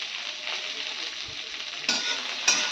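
Chopped capsicum stir-fried in a pan, giving a continuous sizzling hiss with two sharper bursts of louder sizzle near the end as the pieces are turned.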